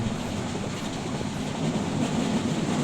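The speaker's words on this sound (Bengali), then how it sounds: "ঝকঝকাঝক শব্দ করে ট্রেন চলেই যাচ্ছে" A train runs along its rails through countryside, heard from inside the carriage as a continuous rumbling roar with a soft, rhythmic clickety-clack underneath and no voices.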